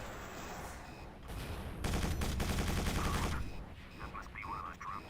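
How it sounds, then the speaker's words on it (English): A drop turret opens fire in the video game Quake 4, a loud sustained burst of rapid automatic gunfire lasting under two seconds amid ambient game noise, with a voice heard at the end. "That must be one of those drop turrets."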